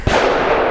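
A single close, loud gunshot from a BUL Armory Axe C Tomahawk pistol firing a 124 grain brass-jacketed steel-case round, a sharp bang followed by a short echoing tail.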